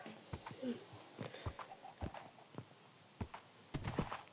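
Horse hooves clip-clop in the Minecraft video game: irregular soft thuds at a walking pace, fairly quiet, with brief faint sounds between steps.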